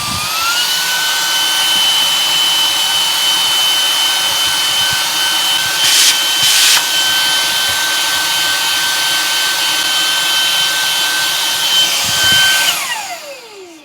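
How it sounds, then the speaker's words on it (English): A Nicebay cordless handheld vacuum on its high setting gives a loud, steady motor whine close up for several seconds, with brief scraping bursts partway through, then winds down at the end. "Let's try the higher setting."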